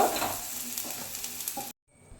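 Spices for butter chicken fry and get stirred in a pan, giving a steady close sizzle with scraping strokes that cut off abruptly near the end, leaving faint quiet.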